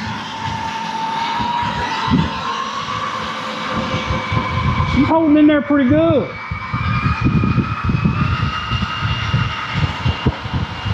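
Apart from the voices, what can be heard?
Vanquish H10 Optic RC trail buggy motor revving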